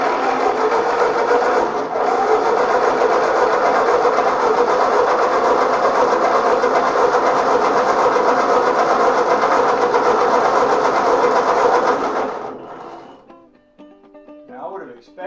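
A 1939 Ford tractor engine cranks without firing: a loud, steady, churning drone runs for about twelve seconds, then cuts off into near silence.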